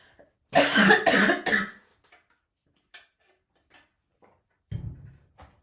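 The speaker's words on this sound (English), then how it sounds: "I'm just going to cough and have some water" A loud cluster of three rapid coughs up close, followed by quiet small clinks and a soft thud or sip later on.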